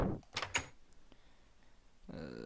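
A door opening or closing in a French-language survival video game, with a few quick wooden clacks near the start, a quiet gap, then a rising shuffle near the end.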